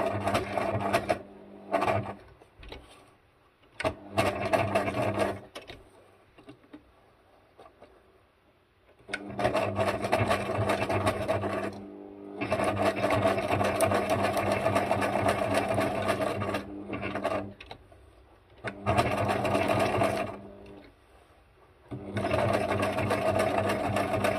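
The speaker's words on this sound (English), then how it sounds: "With that stitch, I'm going around this label." A sewing machine zigzag-stitches around a label on a junk journal tag. It runs in several loud, close bursts of rapid mechanical chatter separated by short pauses.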